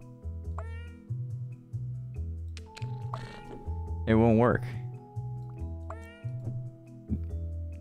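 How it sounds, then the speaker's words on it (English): A cartoonish game cat named Dita Von Cheese gives a loud, wavering meow midway, sitting over steady background game music while a person talks before and after. "Oh look, you found a cat."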